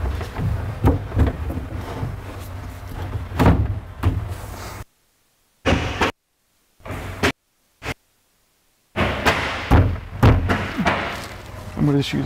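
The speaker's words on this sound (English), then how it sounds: "The next step will be to slide the exterior over the interior of the cabinets." The wooden exterior of a cedar-lined armoire is slid over its interior cabinet section, giving close scraping rubs and heavy thuds and knocks, broken by stretches of near silence.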